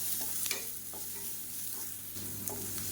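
Onion and garlic being sautéed in a pan, giving a steady low sizzle with soft stirring scrapes and a couple of light clicks.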